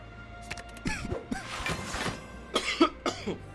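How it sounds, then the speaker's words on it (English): A person coughs several times in quick bursts, close and fairly loud, in a short sequence of rough hacks with brief gaps between them. "Stop coughing!"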